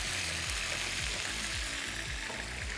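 Chicken pieces frying in a pan for chicken qorma, a steady close sizzle with the occasional stir or scrape, continuous with no talking.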